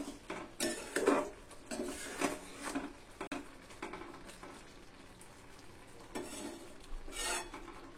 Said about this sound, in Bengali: তো লবণটা দিয়ে আবার একটু নেড়ে ছেড়ে দেব।